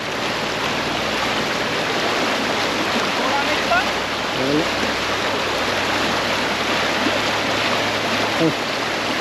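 A strong river current rushes past where a fishing net is set among rocks. The water makes a loud, steady wash with no pause, and a few faint knocks sound under it.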